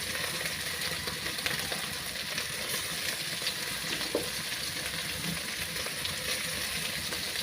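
Pangas fish frying in a hot spice mixture in a pan, a steady broadband sizzle running throughout with faint stirring and clinks, close and continuous with no talk.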